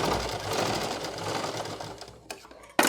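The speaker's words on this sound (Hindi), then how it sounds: "यहाँ तक सिलेंगे क्योंकि ये कपड़ा यहाँ तक है ना इसका" A sewing machine stitches the back plate into a salwar with a loud, continuous close whir that runs for over two seconds, then stops. Two short bursts of stitching follow.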